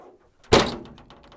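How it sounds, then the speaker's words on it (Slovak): A 2019 Mercedes-Benz G500's door slams shut in a single loud, solid thunk up close, followed by a short fading rattle. "ten zvuk zatvárania dverí je ako na vetrieske"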